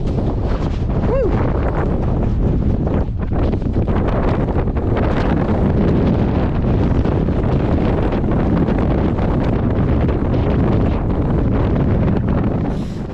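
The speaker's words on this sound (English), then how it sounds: "there were a couple gusts that really like shook me" Strong wind roars across the exposed Franconia Ridge on the Appalachian Trail, buffeting the microphone in a loud, steady rush with gusting surges throughout and no clear speech.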